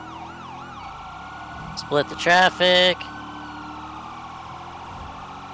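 A police car siren wails steadily through a state police chase on a northbound boulevard, its rising and falling tone running beneath a short burst of urgent speech from the driver.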